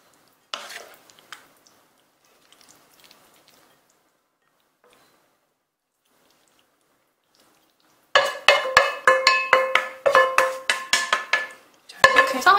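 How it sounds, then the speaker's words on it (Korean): Finished la zi ji, Chinese chili chicken, being plated onto a wide plate: after a mostly quiet stretch with a faint scrape, a burst of rapid metallic clinks and scrapes of utensils against pan and plate, close and busy. "이제 완성된 라조기를 담아줄게요"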